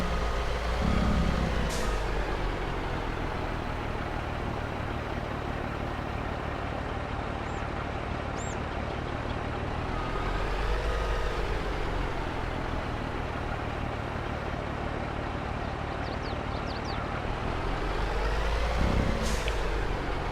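Large truck reversing in the Farming Simulator 22 video game: a steady loud diesel drone that swells and eases as it maneuvers, with sharp air-brake hisses near the start and end and a few faint beeps.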